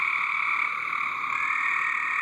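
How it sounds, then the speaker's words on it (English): Many frogs croaking in a backyard swimming pool at night, a loud continuous chorus of trilling calls with no talking. "Frogs. Tons of frogs in our pool."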